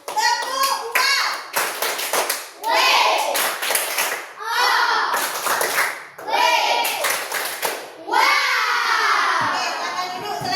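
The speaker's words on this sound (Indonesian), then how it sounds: "tepuk tangan untuk semua" Children clapping in rhythmic bursts at a school-style gathering, loud sharp patterned claps alternating with excited kids' shouting and chanting voices throughout.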